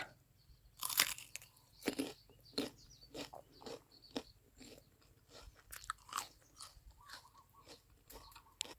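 Crisp, crunchy bites into fresh, juicy ripe date fruit picked from a home orchard, followed by repeated close chewing crunches in an irregular rhythm, alone without talk.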